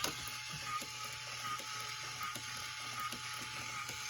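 Small toy motor of a Sega iDog robot dog whirring as it repeatedly moves the ears in motor test mode, a faint steady mechanical clicking and buzzing with light rhythmic ticks, close and quiet, no talking.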